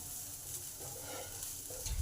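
Grated ginger goes into half-fried onions in a pan, producing a soft, close sizzle with light stirring scrapes, faint and steady, without any voices.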